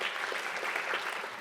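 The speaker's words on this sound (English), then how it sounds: "let's give them another round of applause" Audience applause at a fall festival poetry slam event, a steady dense wash of many hands clapping at moderate distance, continuous and even throughout.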